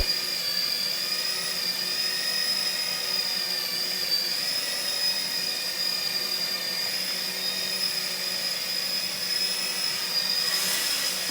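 A toy RC military rescue helicopter flying low over leaves, its rotor giving a steady high-pitched whine and buzz that holds evenly throughout, near and loud, with no speech.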